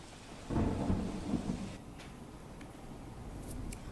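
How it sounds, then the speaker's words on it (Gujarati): Thunder rumbles low and heavy near the start, then fades under a steady hiss of heavy, wind-driven rain falling in Ahmedabad along SG Highway. "એસજી હાઈવે તેમજ વેજલપુર વિસ્તારમાં વરસાદી માહોલ અત્યારે પણ યથાવત છે"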